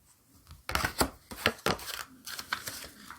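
Tarot cards from an indie deck being shuffled by hand: a close, dry run of crisp riffling and crinkling bursts, irregular and fairly quiet, with no voices.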